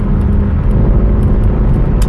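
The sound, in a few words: Mercedes W204 C63 AMG car engine driving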